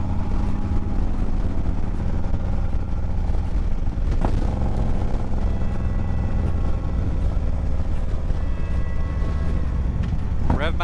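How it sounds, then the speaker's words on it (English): A Harley-Davidson Road Glide motorcycle engine drones loudly and steadily under wind rush, with a low rumbling throb and a brief rise in pitch near the end, as people talk over it. "Rev match on a road glide?"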